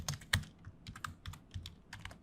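Fingers type code for a ReactJS component on a computer keyboard, with quick, uneven clusters of close, crisp key clicks and a few heavier presses. No one talks.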